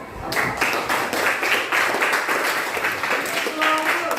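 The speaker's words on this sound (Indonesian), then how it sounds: "Berikan aplaus." A classroom of students claps together in sustained applause after a presentation on flora and fauna, dense and close, continuing for several seconds.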